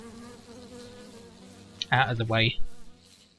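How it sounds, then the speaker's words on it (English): Bees buzzing in Minecraft, heard as a short loud burst of wavering buzz that rises, swells, then fades near the end. Quiet game ambience runs underneath, and a voice speaks briefly. "and noisy where all the bees are"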